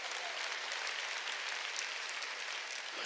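A church congregation claps together during a Sunday worship sermon, a steady dense wash of applause from many hands filling the whole stretch without pause, fairly close and even in loudness.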